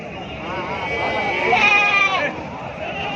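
Goats bleat at the weekly Gudur livestock market. One wavering bleat rises clearly in the middle over a constant murmur of crowd chatter.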